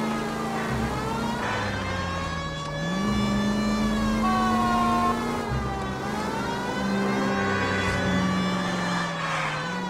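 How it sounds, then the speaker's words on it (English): A steady, wailing police siren in the video game L.A. Noire rises and falls continuously over an engine drone, loud and close throughout. "a siren!"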